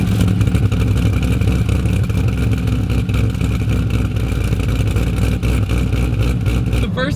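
A Corvette ZR1 engine runs loud and close, with a deep continuous rumble and rough, aggressive revving throughout, while a person speaks over it.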